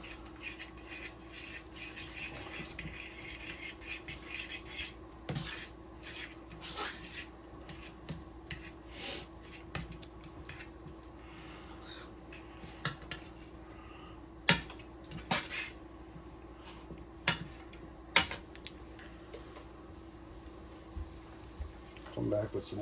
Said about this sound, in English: you just kind of want to whisk it here.